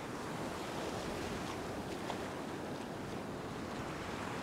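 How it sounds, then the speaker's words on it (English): Waves break on a beach at low tide while someone fishes for whiting from the shore. The surf hisses and rumbles steadily and close by, with a little wind buffeting the microphone, and no one speaks. "Just got to let this wave break."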